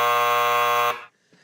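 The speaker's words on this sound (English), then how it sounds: "Where's the buzzer for you?" A loud, harsh studio buzzer blares steadily for just under a second, then cuts off into near silence.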